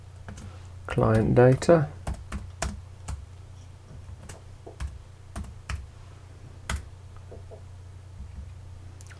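Keys clacking on a computer keyboard while a folder name is typed, a quick burst of taps followed by scattered single keystrokes, with someone speaking over part of it.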